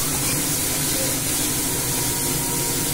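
Chopped onion fries in hot oil with a steady, loud, broadband sizzle and hiss that carries on unbroken throughout, heard close up with no one talking.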